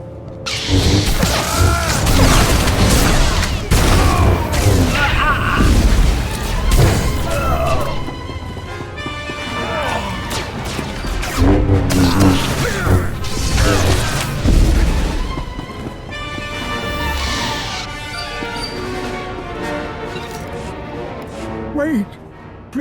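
Blaster fire in a firefight in Star Wars: The Old Republic, with repeated loud shots, booms and impacts spread across the fight and voices talking in between.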